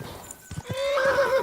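In the medieval video game Kingdom Come: Deliverance, a horse gives a few quick hoof clops and then a loud, drawn-out neigh, heard close and clear.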